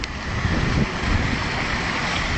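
Water pours steadily from a waterfall into a pond outdoors on a windy day, a continuous broadband rushing wash heard close and fairly loud, with gusts buffeting the microphone and no voices.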